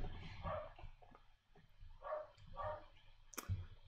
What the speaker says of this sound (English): And I apologize for the barking in the background.